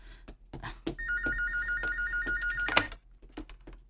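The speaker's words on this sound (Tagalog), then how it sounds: "May bagti na siyang telepono." A telephone rings with a rapid trilling electronic bell for about two seconds, over faint background clatter and soft knocks.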